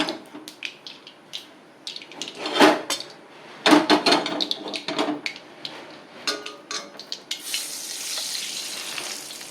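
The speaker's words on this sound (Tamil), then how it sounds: "இதில் நான் கடுகை போட்டுக்கிறேன். இந்த கடுகு நல்லா வெடிக்கணும்." Mustard seeds crackling and popping in hot oil, irregular sharp bursts with clattering of a pan, then a steady sizzle near the end.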